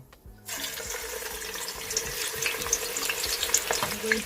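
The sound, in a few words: chopped onion frying in hot vegetable oil in a pot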